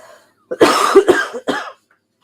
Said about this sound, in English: Sorry, I got a coughing fit right now.